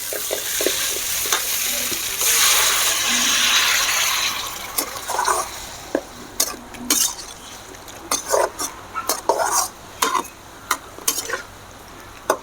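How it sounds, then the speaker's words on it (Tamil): Onion, tomato and drumstick curry gets stirred in a pan: a spoon scrapes and clatters against the metal in a run of sharp, close strokes over a steady sizzle, with water hissing in the pan early on and no talking. "நல்லா வெங்காயம் தக்காளி எல்லாத்தையும் கலந்து விட்டு"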